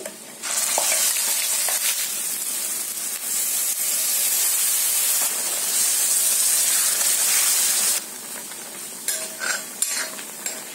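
Ground masala paste hits hot tempering oil with garlic and curry leaves and sizzles loudly and steadily for several seconds, with stirring scrapes on top, then it drops to a quieter sputter with a few clinks near the end.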